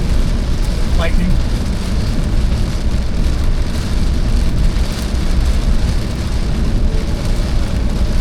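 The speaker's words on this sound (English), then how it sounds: "There's no real wind. It's just rain." Steady rain pours down around a vehicle on a drive near St. Joseph, a dense, even hiss of drops that holds for the whole stretch without gaps or wind gusts.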